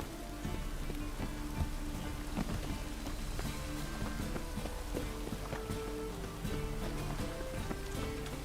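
Rain falls in The Witcher 3 video game as an even, steady patter of drops with scattered sharper hits, continuous and alone throughout.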